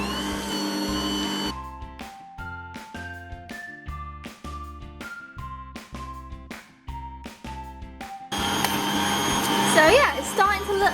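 An electric mixer beats butter icing made with milk and icing sugar, a loud steady whir at the start and again near the end, with a plinking musical melody filling the quieter middle stretch.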